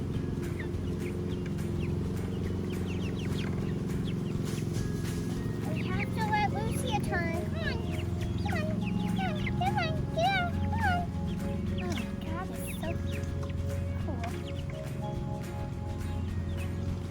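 Five-week-old backyard chicks cluck and peep in bursts while eating cantaloupe outdoors, a steady low rumble underneath and people talking over them.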